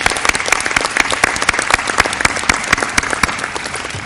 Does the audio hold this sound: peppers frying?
no